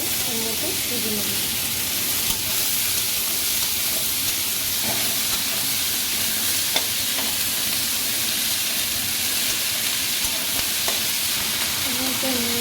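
Ridge gourd pieces fry in oil tempered with radhuni and cumin, a steady dense sizzle running throughout with occasional stirring scrapes, close and fairly loud.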